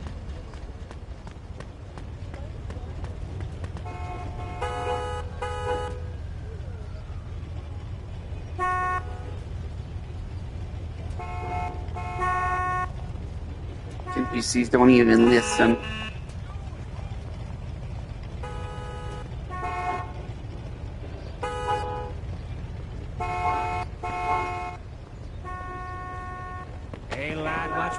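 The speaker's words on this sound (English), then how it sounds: "You don't have to just sit there and blare your horn and waste fuel" Car horns honk from NPC vehicles in Mafia 2, with repeated short blasts and longer blares scattered across a busy street, each one loud and close. Someone talks over them now and then.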